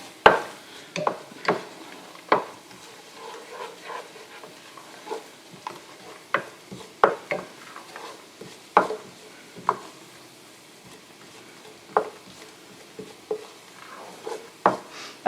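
Cumin seeds and dried chilies toasting in a pan on medium-high heat: a soft sizzle under repeated sharp scraping and stirring strokes at an irregular rhythm, close and clear, with no talk.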